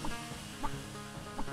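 Chicken clucks from a video game about a suicidal headless chicken, several short bursts spread across a brief stretch over steady game background noise.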